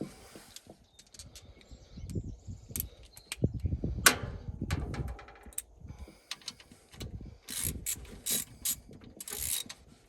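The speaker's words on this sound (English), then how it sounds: "let's tighten back up the old alternator" Hand ratchet wrench tightening the alternator on a Dodge D300 dump-bed truck, bursts of rapid clicking pawl strokes with pauses and clanks of the tool, close and moderately loud.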